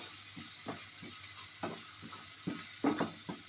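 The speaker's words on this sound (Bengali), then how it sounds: "ভালো করে কষিয়ে নেব এক মিনিট মতো" Spice paste sizzles quietly in a pan while being stirred, a soft continuous hiss broken by repeated scraping strokes of a spoon at an irregular rhythm.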